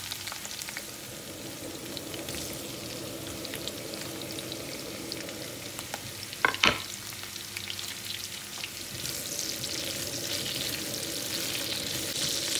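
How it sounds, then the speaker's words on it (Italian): Potatoes and onions fry in a pan with a steady, soft sizzle, broken once by a brief clatter of stirring. "si vedono che le patate cominciano a rosolarsi ed è arrivato il momento di aggiungerci"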